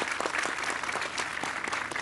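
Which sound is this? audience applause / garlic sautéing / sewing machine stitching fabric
audience applause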